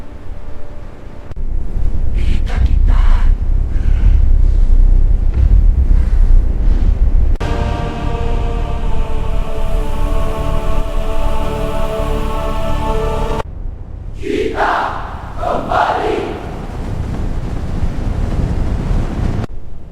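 Wind roars over ocean waves in heavy gusts, with surf rushing and crashing close by throughout, loud and continuous with no speech.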